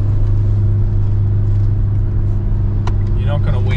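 A Mitsubishi Pajero Sport at full throttle tows a 3000 kg boat up a mountain road, its engine a steady, loud low drone and hum inside the cabin while a person talks.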